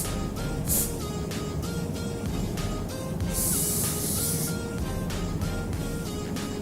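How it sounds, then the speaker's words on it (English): Hair shine spray hisses from a can onto hair in several short bursts over steady background noise, with one longer, brighter spray in the middle. "I am just going to spray my hair with this hairspray."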